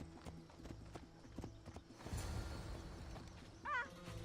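Horse hooves clip-clop in Assassin's Creed Odyssey, a run of sharp evenly spaced hoofbeats that give way to a rushing gallop, ending with a brief whinny-like call.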